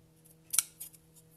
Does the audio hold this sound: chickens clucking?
no